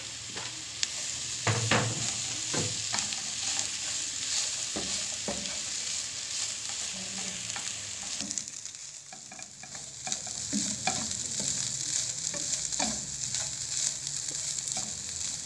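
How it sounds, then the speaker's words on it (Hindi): Pre-boiled chicken and potato pieces stirred into a sizzling masala in a pan, with scraping spoon strokes over a continuous fry, close and without speech. "अब इसमें हमने ये चिकन और आलू जो कि हमने पहले से बॉईल कर लिया था वो डाल लिया"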